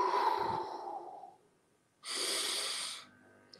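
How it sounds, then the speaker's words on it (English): A man in his sixties breathes deeply in through the nose, one long close inhale that fades out, a short pause, then a second sharp, hissing breath lasting about a second. "it's deep nasal breathing through the nose"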